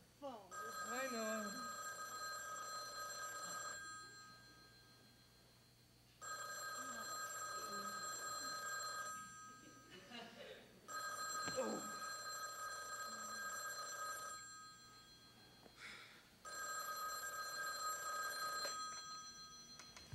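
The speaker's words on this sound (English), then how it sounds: "I think the phone is ringing" Old-style telephone bell ringing in repeated long bursts separated by pauses, moderately close, with people talking between and over the rings.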